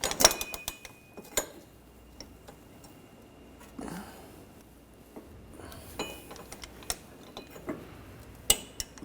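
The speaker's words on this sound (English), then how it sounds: "And we're going to torque this to 61 foot-pounds." Inner tie rod on a 2013-2019 Ford Escape torqued to 61 foot-pounds, with scattered close metallic clicks and ratchet-like ticks separated by quiet gaps, ending in a sharp click.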